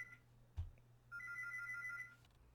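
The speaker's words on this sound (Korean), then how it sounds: "연구실에 전화가 오는 바람에 네, 잠시 레코딩을 중지해서 좀 시끄러웠죠, 전화기 소리가" An office telephone in a university lab rings with a steady electronic trill, heard at a distance after a short beep and a low thump, in an otherwise quiet room.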